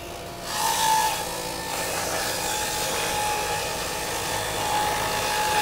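Omega 1000 centrifugal juicer spinning at speed while juicing oranges, a steady high motor whine that starts abruptly and holds constant, close and moderately loud.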